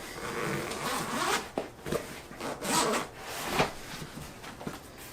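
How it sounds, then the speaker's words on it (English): A zipper on a range bag is pulled open in several close, scratchy bursts of uneven length, with short pauses between the rasping pulls and no voices. "This zipper here is actually where I keep my paperwork."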